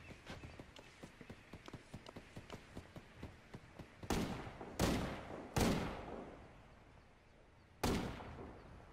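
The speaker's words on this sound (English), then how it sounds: "I got someone shooting me." Gunfire in the video game Ghost Recon Wildlands: a run of faint rapid clicks and taps, then four louder separate shots with echoing tails, fairly distant, no talk.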